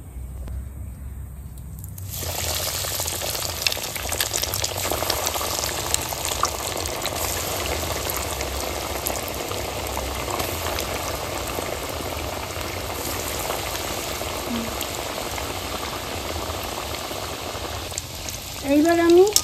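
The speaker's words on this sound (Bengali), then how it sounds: "নাও ঠাকুমা ভাজা শুরু করো এবার।" Food frying in a pan gives a steady, dense sizzle that starts about two seconds in and stays loud and even to the end, with a faint low hum underneath.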